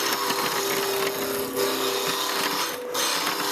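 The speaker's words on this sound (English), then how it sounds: "So start the cut at one end, cut towards the end so you don't chip the end off." A wood lathe spins at roughly 1800 RPM while a spindle roughing gouge cuts a friction-driven workpiece, making a continuous loud, gritty cutting noise over a steady hum.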